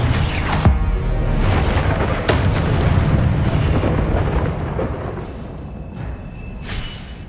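Confringo blast spells explode in the video game Hogwarts Legacy, a dense, loud roar of booming bursts and crackling debris that rumbles continuously, with brief sharp pops layered on top.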